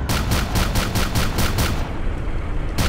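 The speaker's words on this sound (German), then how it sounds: "Warte mal, hörst du mich auch schießen?" Rapid automatic gunfire in DayZ rattles off in a steady burst of about a dozen evenly spaced loud shots, pauses briefly, then a single further shot lands at the end.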